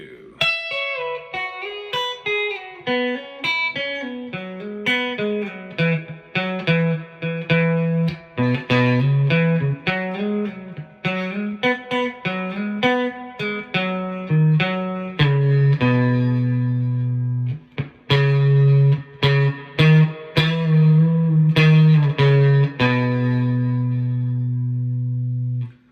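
An electric guitar plays the second part of a solo, a clean melodic line of single notes moving into sustained bends and held low notes, loud and alone.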